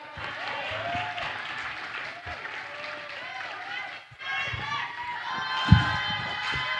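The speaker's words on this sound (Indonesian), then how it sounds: "Beri tepuk tangan yang meriah." A crowd at a Maulid Nabi celebration competition applauds in a dense, ongoing patter, with excited voices and children's shouts mixed in and a brief loud burst near the end.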